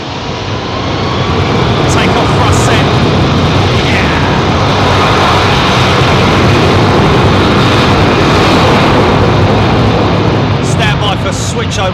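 A jet airliner spools up to takeoff power on London Heathrow's runway 27R, a loud, sustained roar that builds and holds for several seconds while someone talks over it.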